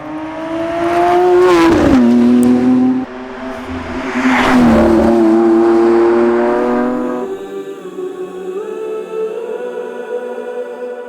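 A Lamborghini Sian, an 819-horsepower V12 car, roars hard under acceleration through repeated rising revs with gear changes, loud and close, then settles into a steadier, lighter engine drone.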